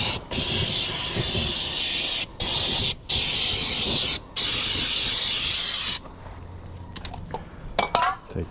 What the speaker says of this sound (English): I'm gonna take my brake clean and spray it all on here